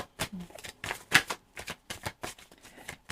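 Tarot cards are shuffled and drawn, a series of crisp, irregular riffling flicks and snaps close by, with a brief soft murmur in between.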